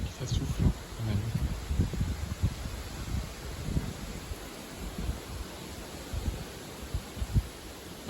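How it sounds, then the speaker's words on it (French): Gusty wind ahead of a July storm rumbles and buffets the microphone in uneven bursts, with a broad rushing noise and possible rustling of blowing leaves, louder at the start and easing somewhat later. "Ça souffle hein, quand même."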